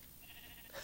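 A single short sheep bleat from the game Minecraft, a brief soft call rising near the end of a very short, quiet moment.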